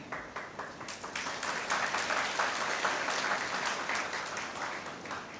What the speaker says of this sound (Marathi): तुम्ही टाळ्या वाजवल्या म्हणून तुमचे आभार मानते